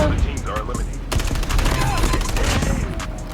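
Rapid bursts of gunfire in a video game crackle in quick successive volleys, loud and dense over a couple of seconds, with faint background game noise.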